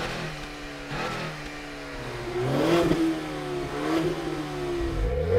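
Several cars launch hard in a no-launch-control drag race among a Mustang EcoBoost, Subaru WRX, Volkswagen GLI and Honda Accord, with engines revving and rising in pitch through the gears, loud and close, sweeping up steadily across the whole stretch.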